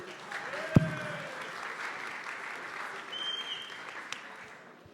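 An audience at a gaming market and Web3 games talk applauds continuously, a broad wash of clapping with a sharp thump near the start, fading slightly toward the end.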